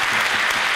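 Steady, dense applause from a conference audience thanking a panel of CEOs, loud and even throughout a brief burst.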